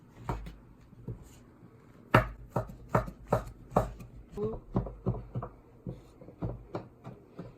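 Pork omelette ingredients chopped very small with a knife on a board, a quick irregular series of crisp close knocks, about a dozen sharp strikes after a sparse start.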